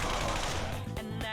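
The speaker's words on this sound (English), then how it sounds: "Maybe we can free him with our gunfire here" Rapid gunfire rattles through a Persona 5 battle, dense bursts of shots layered over game effects and music, loud and continuous with a short break midway.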